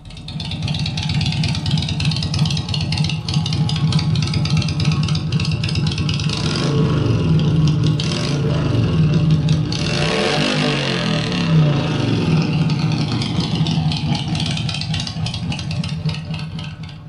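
A carbureted motorcycle engine idles and runs unevenly nearby, a throaty, burbling, near-stalling rumble that rises slightly in the middle before settling.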